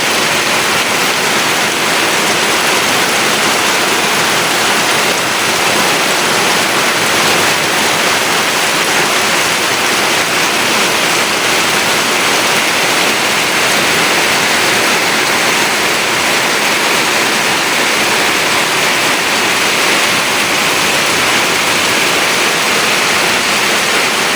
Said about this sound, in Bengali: অনেক জুড়ে বৃষ্টি পড়তেছে